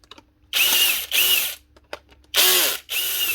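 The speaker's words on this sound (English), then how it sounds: "They're a nice wee drill, these." A small Bosch cordless drill, previously dropped and cracked open, whirs in three short bursts, its motor pitch rising and falling, with brief clicks and quiet gaps in between.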